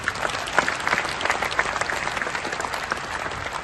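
Loud, dense applause from a crowd at a Kudo sports event in an indoor stadium in Surat, Gujarat, honoring athletes, rising in steady waves of clapping with a few sharper claps throughout.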